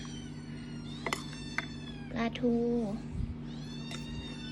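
A cat meows once, a drawn-out cry, while being fed rice mixed with deboned mackerel. Someone talks over a steady background hum, with a few sharp clinks nearby.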